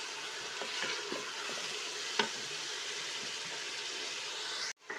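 Steady crackling sizzle of onions frying in hot oil for lamb karahi, close and continuous, with a few stirring scrapes and a brief clatter near the end.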